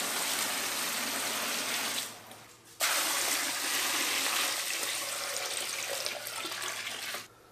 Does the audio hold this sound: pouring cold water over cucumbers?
yes